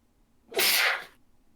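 A single loud, close human sneeze bursts out and fades within about half a second, with near silence before and after.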